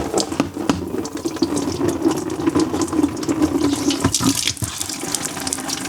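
Coolant pours steadily out of a 2009 Subaru Outback 3.6L radiator during a radiator replacement, a continuous close-up gush of liquid splashing with a few sharper drips and splatters, no talking.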